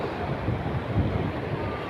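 Rough, churning surge of waves breaking against rocks at low tide, a steady broadband roar with gusty wind noise on the microphone, fairly close and without a break.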